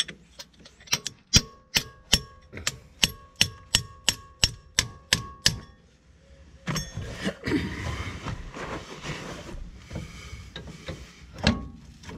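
About a dozen sharp metallic hammer blows ring out in a steady rhythm on a washer while a 2.2 HDI diesel engine is being removed, close and loud, followed by clattering and rustling workshop handling noise.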